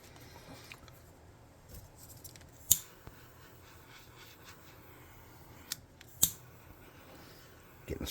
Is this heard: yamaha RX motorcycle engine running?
no